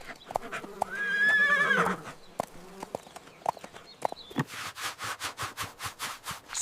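A cartoon horse lets out a loud, wavering whinny, then sniffs and snorts, and ends with a run of rhythmic hoof clip-clops.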